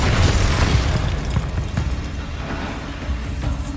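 A Confringo spell explosion in a Hogwarts game, a loud close boom with crackling bursts that settles into a rumbling tail.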